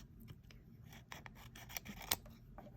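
Scissors snip repeatedly near the microphone during a fall manicure session, a run of short crisp cuts and rasping clicks at close range, fairly quiet overall with no talking.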